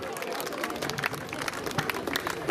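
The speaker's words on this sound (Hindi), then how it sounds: "हम जोरदार तालियों से आपके माननीय मुख्यातिथि जी का स्वागत करें।" Audience claps to welcome the chief guest, an MLA, at a panchayat visit, a dense steady burst of clapping from a gathered crowd, fairly close, with some voices mixed in.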